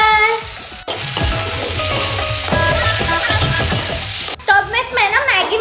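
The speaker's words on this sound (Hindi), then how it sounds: "प्याज जो है वो भून चुका है, अब मैं इसमें डालूंगी टमाटर" Tomatoes tipped into onions already frying in a pan set off a loud, close sizzle with stirring scrapes, broken by two sharp knocks, and a tonal bleep or music runs over it at times.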